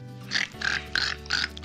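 A child imitates a pig eating, making four quick, rhythmic oinking snorts, fairly faint and close.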